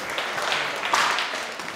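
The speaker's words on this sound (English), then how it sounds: "Round of applause for them, please." A live studio audience applauds after a stage stunt, a dense, steady wash of many hands clapping at close range that holds for the whole stretch without letting up.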